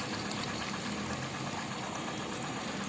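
A Suzuki Access 125 BS IV scooter engine running with diesel added as an engine flush during home servicing, a steady close idle with a rough, knocking mechanical hum throughout.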